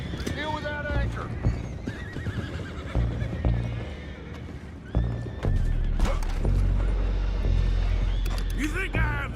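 Horses in the video game Red Dead Redemption 2 whinny and neigh repeatedly over steady hoof clip-clop, with people talking and loud action sounds throughout.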